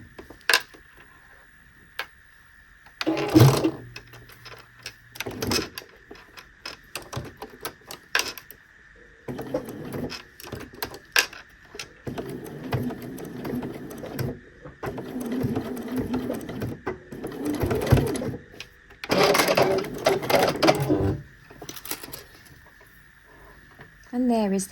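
A domestic sewing machine stitches down the folded fabric end of a charm bracelet in several short bursts, with quiet pauses and handling noises between runs and a faint steady hum underneath.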